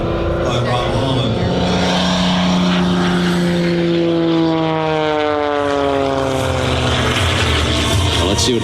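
Aerobatic propeller airplane flown by Rob Holland at the 2022 Kansas City airshow, its loud engine droning and shifting pitch as it pulls and passes, with commentators talking over it.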